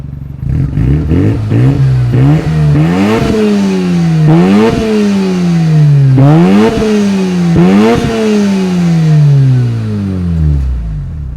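A red fifth-series Mazda RX-7 FD3S Type R rotary engine, fitted with RE Amemiya and Fujita Engineering parts and already warmed up, revs repeatedly from idle, rising and falling in several loud, close blips.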